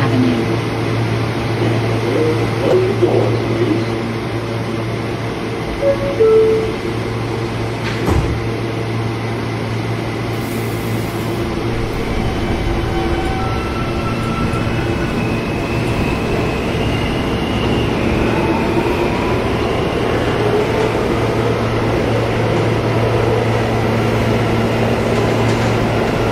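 An R160A G subway train in the Roblox video game runs along the IND Crosstown Line with a continuous rumbling roll and steady motor whine, loud and unbroken for the whole stretch.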